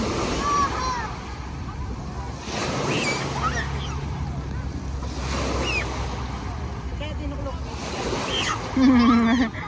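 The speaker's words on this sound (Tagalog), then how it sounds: "ang sarap pakinggan yung hampas ng alon" Waves wash onto the Manila Bay shore along Roxas Boulevard at Dolomite Beach, a steady surging rush that swells and recedes, with wind buffeting the microphone and faint voices of a crowd in the background.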